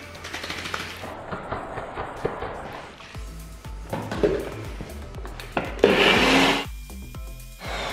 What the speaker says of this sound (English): So a heaped tablespoon of almond spread, pop that in. And then we're just going to simply blend that up.